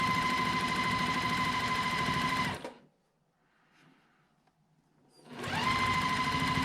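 A sewing machine stitches quilt squares together in two loud continuous runs, its close buzzing whir stopping for a quiet pause of a few seconds in between before starting up again.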